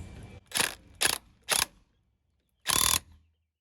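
A ratchet fitted with a 15/16 socket tightens the prop nut on a Mercury Mariner 40hp outboard, giving four short, sharp mechanical bursts close by, the last one longer, with brief silences between.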